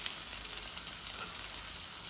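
Garlic sizzles in hot oil in a pan, a steady, close crackling hiss with no talk over it.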